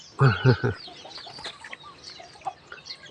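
A hen gives three quick, loud clucks, followed by quieter scattered clucking and bird chatter outdoors.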